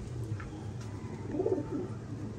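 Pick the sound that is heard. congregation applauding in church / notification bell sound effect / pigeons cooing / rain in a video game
pigeons cooing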